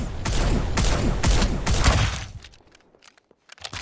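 Gunfire in Farlight 84 ranked squad play: several close bursts of rapid automatic shots in quick succession, loud and dense, then a quieter gap with a few scattered clicks and impacts.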